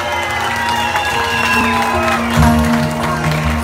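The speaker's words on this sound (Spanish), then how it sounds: "que pasen al centro de la pista, por favor, con un fuerte aplauso" Loud crowd noise at a quinceañera party, with applause, cheering and whoops layered over steady music, sustained and close throughout as guests are called to the dance floor.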